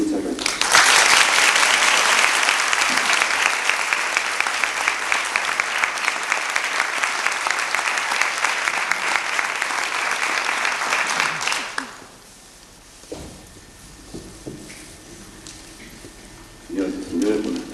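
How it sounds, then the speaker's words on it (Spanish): Audience applause at a lecture welcoming Dr. Francisco J. Rubia, loud sustained clapping for about twelve seconds that then stops, followed by quiet room sound and a few faint noises. "les pido realmente un caluroso aplauso de bienvenida al doctor Rubia"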